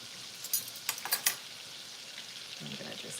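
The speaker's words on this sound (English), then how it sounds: "now we're gonna hit it with our tablespoon of garlic" Garlic hits melted butter in a pan on low heat, a soft close sizzle with a few clinks of a spoon or jar early on, staying quiet and steady.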